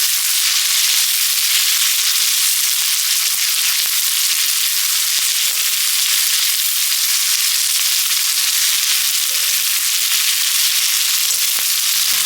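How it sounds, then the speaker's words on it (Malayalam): Onions sizzling loudly in hot oil left from frying chicken over a high flame, a steady dense crackle that stays even throughout with no voices. "ആ ഓയിലിലേക്ക് നല്ല ചൂടോടെ സവാള ഇട്ട് കൊടുക്കണം നല്ല ഫ്ലെയിമിൽ വെച്ചിട്ട് നന്നായിട്ട് ആക്കി കൊടുക്കാം"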